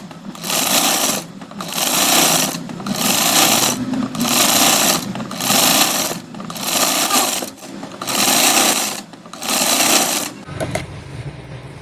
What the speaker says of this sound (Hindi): इस पर डबल सिलाई लगा देंगे